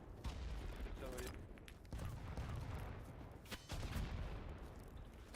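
Rapid video game gunfire and explosions in a chaotic multiplayer battle, with dense bursts of shots and booms continuing throughout at close range.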